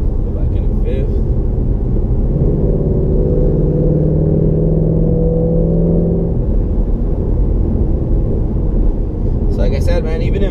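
Low, steady exhaust drone from a 2016 Ford Mustang GT with a Corsa Xtreme exhaust cruising in 5th gear, a constant interior rumble with a smooth tone rising briefly in the middle.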